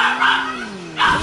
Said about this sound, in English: Bro, whoever's dog that is